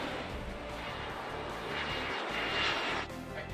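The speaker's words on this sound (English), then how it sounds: "noise when Hisho flew over at a low altitude was measured" A Hisho aircraft flies over at low altitude beside a runway, producing a steady, loud broadband roar that swells slightly toward the end, then drops abruptly, with no voices.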